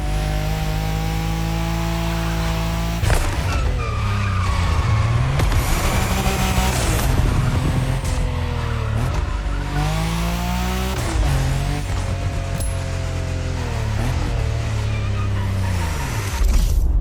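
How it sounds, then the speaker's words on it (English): Electric Audi Hoonitron Gymkhana car in The Crew Motorfest, driven loud and close with rising and falling motor whine, repeated revving sweeps and tire skids, over steady background music. "You'll be driving the only electric Hoonigan car, which is probably the most powerful Gymkhana car"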